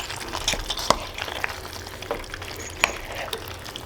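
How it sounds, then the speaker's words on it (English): Penne pasta is stirred through a sauce in a pan, with soft sizzling and wet scraping and stirring sounds, plus a few sharper clinks of the spoon against the pan, close up and without speech. "so let's mix all this pasta in"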